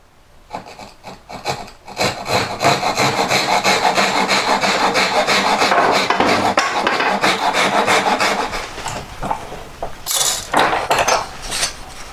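A saw cuts at an angle through a wooden jeweller's bench peg clamped in a vise, with loud, rhythmic rasping strokes back and forth close up, slowing to a few separate scrapes near the end.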